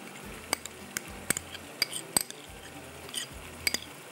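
Spoon clinks against a bowl as salt, black pepper, brown sugar and mayonnaise are mixed, a few sharp taps spaced irregularly over a soft stirring background, close and fairly quiet.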